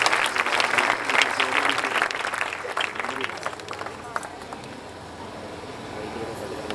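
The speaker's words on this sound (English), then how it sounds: "Zordar clapping Sister Lily ke liye again" A church congregation claps for Sister Lily at an evangelistic crusade at Liyari Express, Karachi, a dense, loud burst of applause that gradually thins and fades beneath murmuring voices.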